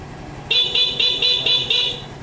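A small stock horn on a Yamaha Fazzio scooter beeps in a rapid run of about six short, evenly spaced honks over a low engine idle, close by.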